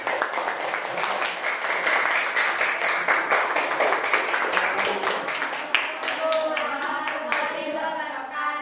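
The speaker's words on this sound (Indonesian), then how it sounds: "Kasih tepuk tangannya untuk kelompok dua." A primary classroom in an Islamic school applauds a student group, steady rapid clapping from many hands at moderate level, fading into a few voices speaking near the end.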